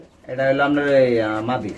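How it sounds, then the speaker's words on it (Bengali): A pair of German red pigeons coo close by, a short low throaty call running about a second and a half beneath someone talking over it. "এটা কি কবুতর জোড়া মূলত জার্মান শিল জার্মান রেড কালার"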